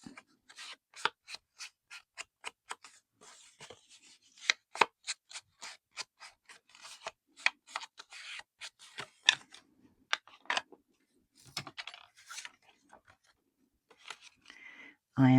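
Ink pad dabbed and rubbed onto paper in a craft session, a long series of quick, crisp taps and scuffs in an irregular rhythm, close and fairly quiet, with a brief voice at the very end.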